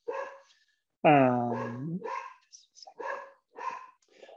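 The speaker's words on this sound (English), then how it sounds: "apologies about the dog barking" A dog barks at a mail delivery, one loud close bark followed by several shorter yelps and whimpers in bursts, with a brief spoken hesitation between them.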